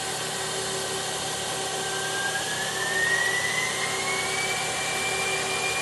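Live tooling on the turret of a 2008 Mazak Quick Turn Nexus 100-II M CNC lathe spinning at 2,000 RPM, a steady mechanical whine with a tone rising midway, alone and continuous.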